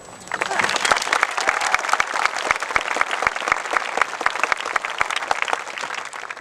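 An audience at the Exeter High School Class of 2018 graduation ceremony applauds, a dense steady clapping from many hands heard somewhat distant, rising quickly and holding for several seconds.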